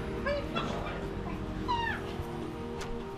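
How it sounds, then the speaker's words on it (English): Dogs whimpering and yipping in short high-pitched bursts, a few close squeals over a low background hum, and no clear talk. "Crazy dogs."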